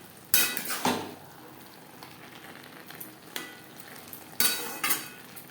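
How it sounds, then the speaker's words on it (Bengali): Garam masala powder being stirred into a vegetarian banana flower curry in a pan, with a few distinct clanks and scrapes of a spoon against the pan over a low background sizzle. "গরম মশলা পাউডার মোচার সাথে বেশ ভালো করে মিক্সড করে দেবো"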